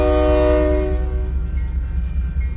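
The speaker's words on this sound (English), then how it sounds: "this westbound manifest is slowly getting going again" A westbound manifest freight train gets going after a crew change in Missouri Valley, Iowa, sounding a loud horn blast that fades after about a second, over a deep rumble of locomotive and rolling cars.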